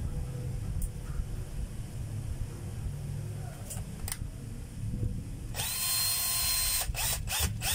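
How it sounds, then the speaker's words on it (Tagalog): A cord clamp is fastened while repairing damaged wiring: faint clicks and ticks give way to a loud, close power-tool whir late on, broken by a few short stops. "Kabit na natin yung cord clamp mga kabay."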